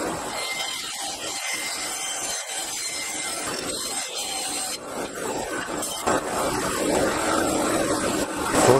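Hand-sawing through a small piece of ash wood, a close, dry rasping stroke that repeats in an uneven rhythm and grows rougher and louder toward the end, with no talking.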